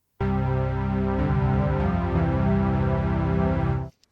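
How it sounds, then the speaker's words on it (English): Wavetable synth patch in Suno Studio playing a sustained, harmonically rich chord-like tone with a rhythmic pulsing texture, steady and loud for several seconds before cutting off cleanly. "I have a patch loaded up in this wavetable synth that sounds like this."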